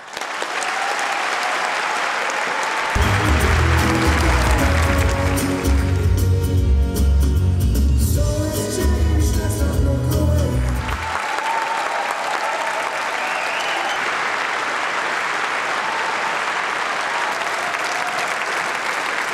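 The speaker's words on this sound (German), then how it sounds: "Danke für diesen unglaublichen Applaus." A large audience at the international film premiere of Power to Change in Freiburg gives a standing ovation, with dense, loud, continuous clapping that swells with heavy rumbling through the middle and carries on for the whole stretch.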